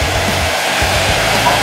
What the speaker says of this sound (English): I'm going to use my trimmer to set in that line